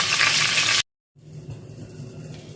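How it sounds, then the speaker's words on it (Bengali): Spice paste fries loudly in a hot pan, giving a dense bright sizzle for under a second. Then it cuts to silence, and a softer steady kitchen hiss and bubbling follows. "মশলাটা ভেজে নিয়ে আসছি"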